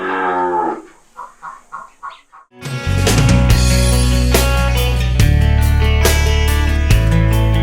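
Dairy-farm cattle moo in a few close, drawn-out calls, then a loud, dense wall of sound abruptly takes over for the rest.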